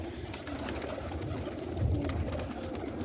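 Pigeons in a loft coo softly in low, rounded throaty calls, a couple of swelling coos over a steady background hum, with someone speaking faintly nearby.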